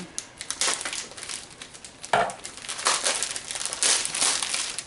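Plastic comic book bags being cut open and handled, giving bursts of close crinkling and crackling that come and go over a few seconds, with no talking.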